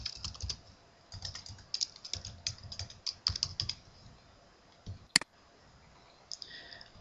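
Typing a username and password on a computer keyboard: bursts of quick, close key clicks separated by short pauses, with one sharper click near the end.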